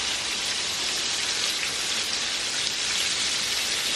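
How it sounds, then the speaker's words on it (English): Water pours steadily into a pot of potatoes in a continuous, close, hissing splash that holds an even level throughout. "Add some water."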